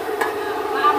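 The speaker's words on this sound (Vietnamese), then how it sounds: "Bà con người Dao ở đây có cái xẻng đảo cơm" Cooked rice stirred in a large pot with a traditional Dao rice-stirring spatula at a big village feast, producing a steady, close scraping and soft sizzling churn with occasional brighter scrapes.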